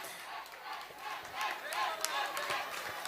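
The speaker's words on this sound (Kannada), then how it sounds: "ನಮ್ಮೆಲ್ಲರ ಜೋರಾದಂತಹ ಚಪ್ಪಾಳೆ" Crowd at the Mangalore Dasara 2025 cultural program cheering and clapping for the winning team, a dense, steady wash of shouts and applause with brief louder whoops, sustained throughout.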